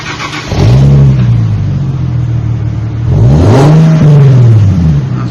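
A 2010 Infiniti G37 with a dual-mode exhaust and X-pipe revs twice, the engine climbing to a throaty rise and falling back between pulls, loud and close with a steady idle rumble beneath.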